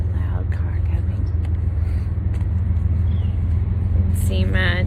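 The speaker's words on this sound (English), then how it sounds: "A loud car coming." A loud car approaches on a road near the icy Smith River in December, its low rumble building steadily under a soft voice, with a brief whistle-like sound near the end.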